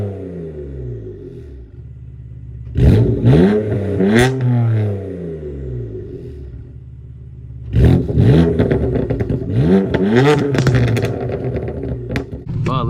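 A BMW M4 with a 500hp-plus engine warms up, its loud, close exhaust rumbling and swelling in two strong revving bursts between steadier idle stretches.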